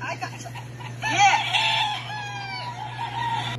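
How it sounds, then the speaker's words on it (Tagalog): A rooster crows loudly up close, one long drawn-out call over a constant low hum, with some clucking around it. "inahabol niya yung manok"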